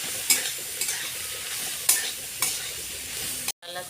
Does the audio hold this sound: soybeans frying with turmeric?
yes